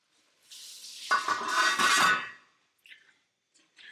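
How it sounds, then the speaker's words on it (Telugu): Gravy for an Andhra-style gongura paneer biryani fries in a pan, giving a loud, close sizzling hiss that swells for about two seconds, cuts off, then returns in a couple of faint brief bursts. "ఇప్పుడు అది ఆ గ్రేవీ కొంచెం ఫ్రై అవుతుంది కదా"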